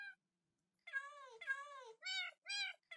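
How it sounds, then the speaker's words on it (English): Cats meow repeatedly at a creeper farm in Minecraft, a clear run of four or five drawn-out, tonal meows in quick succession, close and fairly loud with no talk. "These creeper farms are so annoying because the cats keep meowing all the time."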